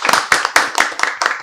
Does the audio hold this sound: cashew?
no